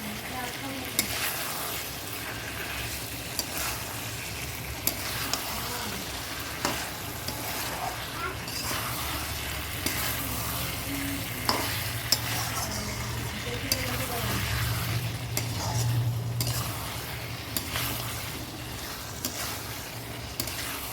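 Chicken kosha being stir-fried in a pan, a continuous moderate sizzle broken by regular scraping and knocking of a spatula against the pan.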